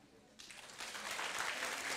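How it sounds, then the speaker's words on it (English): Audience at a political forum bursts into applause after a brief quiet moment, the clapping swelling quickly and holding steady and fairly loud to the end. "let's all pretend you want to give me a round of applause"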